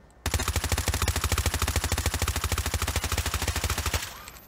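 Automatic gunfire from a shooter video game played with a Gamesir X1 controller at sensitivity 30: one sustained, rapid, evenly spaced burst of loud shots lasting about four seconds, then a sudden stop.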